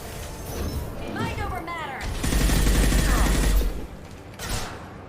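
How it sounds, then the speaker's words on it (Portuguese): Rapid gunfire bursts from the video game Mass Effect 2 Legendary Edition, a dense clattering fusillade rising loud in the middle of the clip, with voices talking over and around the shooting. "eles estão atirando pela parede?"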